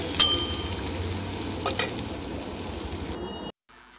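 Peeled, diced potato pieces fry in hot oil for a Bengali cauliflower-potato poppy-seed dish, giving a steady close sizzle with a couple of brief clinks before the sound cuts to near silence.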